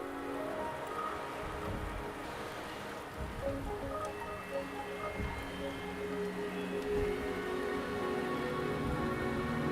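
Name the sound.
rain in the video game Wuthering Waves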